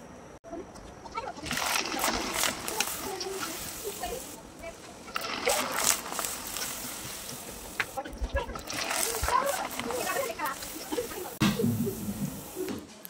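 Syringe pitha dumplings are lowered into hot oil and fry, giving bursts of loud crackling sizzle and splattering up close, rising and falling over about thirteen seconds.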